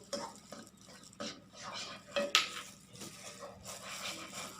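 Onions drop into hot oil in a pan and are stirred, with quiet scraping and utensil knocks over a low background sizzle, close by and fairly faint, with no talking.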